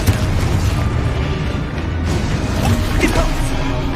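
A Confringo blast spell explodes in Hogwarts Legacy with a loud, dense booming rumble that carries the whole moment, heavy and close.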